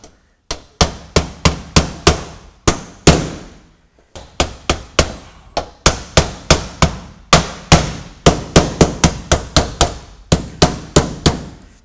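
A hammer drives nails into roof shingle hip caps, fastening the top nailing tabs: dozens of sharp, close, ringing blows fall in quick irregular runs, separated by short pauses.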